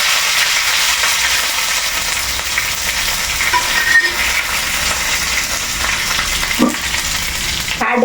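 Mustard seeds crackle in hot oil for a vegetable thoran and tomato curry, with a steady broadband sizzle running throughout and a few sharper pops standing out near the end.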